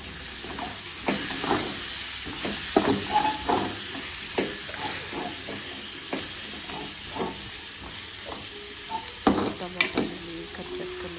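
Tomatoes sizzling and frying in a pan for chikkudukaya curry, with scattered stirring scrapes and spoon clinks over a steady low hiss, fairly quiet and close, with no talking.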